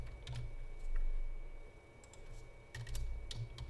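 Fingers type on a computer keyboard while writing a T-SQL query, giving quick, close key clicks in short irregular bursts over a low background hum.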